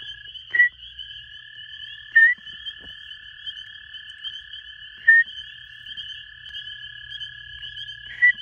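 A spring peeper frog calls at night in a pool, giving four sharp, loud, evenly spaced peeps over a steady high chorus of other frogs trilling in the background.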